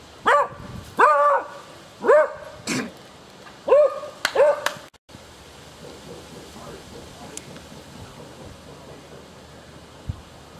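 A beagle barks five times in quick, sharp bursts, fairly close, followed by several seconds of quiet room noise.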